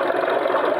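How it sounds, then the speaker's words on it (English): A 1924 vintage motor idles smoothly at a traction and steam preservation event, a close, steady, even-running hum with no misses across a brief moment. "just have a listen to that motor. It's just purring without any hiccups"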